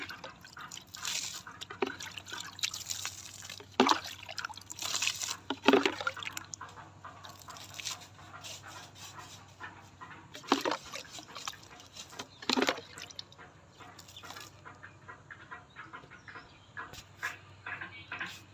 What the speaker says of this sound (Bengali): শাক খেতে জল দিতেছি, জল না দিলে শাকটা ভালো হইব না।